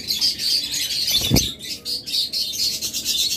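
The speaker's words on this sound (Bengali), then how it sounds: "অনেকগুলো পাখি রয়েছে" Many caged birds in a bird shop, a dense continuous chorus of high chirps and tweets close by, with a brief low flutter or thump partway through; no talking.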